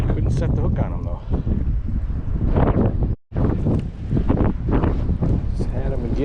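Gusty wind blows at a Lake St Clair shore by a seawall, buffeting the microphone in loud roaring bursts with a brief sudden dropout midway.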